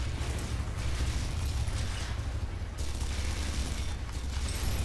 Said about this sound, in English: Boom! Boom! Boom! Explosions!